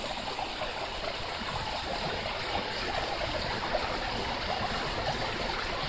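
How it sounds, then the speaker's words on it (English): Waterfall in Tucker, Georgia, flowing over bedrock, a steady full rush of falling water that stays even and continuous throughout, heard alone with no voices. "Beautiful waterfall in Tucker,"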